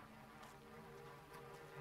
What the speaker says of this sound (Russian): Ага, здесь мухи.